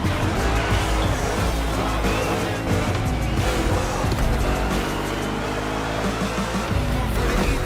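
A Mustang GT monster truck racing in The Crew Motorfest during a two-lap race, its engine roaring loudly and continuously with shifting revs, tire squeal and crowd-like background noise throughout.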